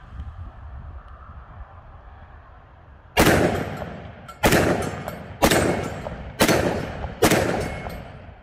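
A Smith & Wesson M&P 2.0 10mm pistol with a 4-inch barrel fires 180-grain Gold Dot rounds outdoors: five loud, sharp, close shots at a steady pace roughly a second apart, each with a ringing decay, after a stretch of wind noise.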